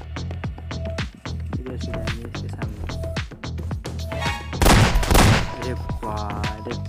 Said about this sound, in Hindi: क्या गोलियाँ चलाते रे